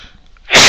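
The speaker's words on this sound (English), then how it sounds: "Sorry about the sneeze there." A single sudden sneeze bursts in loud and close after a quiet pause, its noisy blast filling the last moments.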